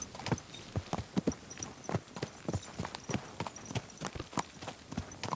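Horse hooves clip-clopping at a steady walking rhythm on a ride in Kingdom Come Deliverance 2, close but fairly quiet, even repeated footfalls throughout.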